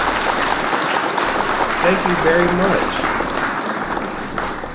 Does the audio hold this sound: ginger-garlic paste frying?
no